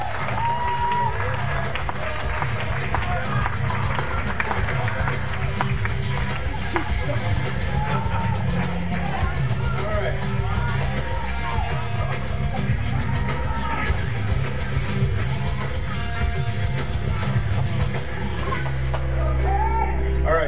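A live audience cheers and applauds steadily for a strongman at a brick-breaking strength show, a dense, continuous roar of clapping and crowd noise with voices mixed in that holds throughout.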